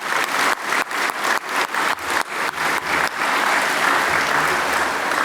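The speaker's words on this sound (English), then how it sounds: "Can we please give Michael a round of applause?" Audience applause at an anniversary breakfast for the National Apology to the Stolen Generations, beginning as rhythmic unison clapping in regular beats, then breaking into a loud, continuous wash of many hands.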